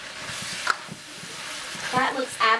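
Chicken and vegetable stir-fry in a pan, a faint steady sizzle running under a person's speech, with stirring scrapes toward the end.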